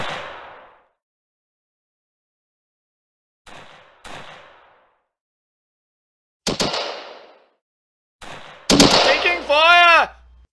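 Video game gunfire: isolated sharp shots with long silent gaps, then a closer burst and rapid fire, followed by a whooshing, swooping effect at the end.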